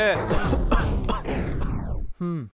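A man clears his throat and coughs in a few harsh, rough bursts, close and loud, ending with a brief voiced grunt.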